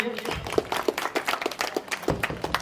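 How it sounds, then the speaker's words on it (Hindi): A modest crowd claps at a computer education institute's annual function, uneven claps popping close by in a loose rhythm, some stronger than others, with faint voices underneath. "जोरदार तालियां हो जाए इनके लिए"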